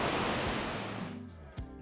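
High Falls roars as a dense, constant wash of rushing water, loud and close, thinning slightly toward the end with a brief thump near the finish.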